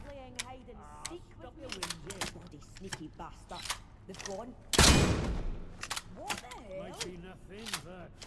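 Gunfire in the video game Atomfall: a loud, broadband burst near the middle, with sharp clicks around it and a person talking throughout.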